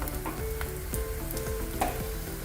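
A crispy vegetable pancake fries in a pan, giving a close, steady sizzle and crackle with light scraping, and no voices.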